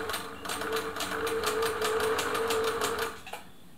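A Singer 700 series sewing machine stitches a wide zigzag, giving a steady, rapid mechanical whirring with an even ticking rhythm that runs for about three seconds before stopping.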